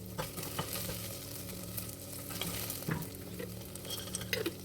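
Onions, garlic cloves and whole dry red chilies fry in hot oil with a steady close sizzle, broken by occasional stirring clicks and small pops, and no talking.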